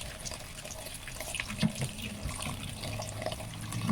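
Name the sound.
washing papaya vegetables under running tap water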